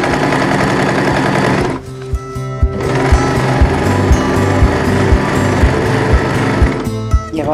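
A sewing machine stitches a backpack in loud, fast mechanical runs, stopping briefly midway and then restarting, with a short backstitch burst near the end.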